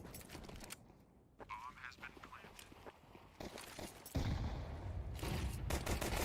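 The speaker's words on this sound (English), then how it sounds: "Couple of flashbangs to each side." Counter-Strike: Global Offensive match audio with overlapping gunfire bursts and flashbang pops, dense and continuous, louder in the second half, with a game soundscape under it.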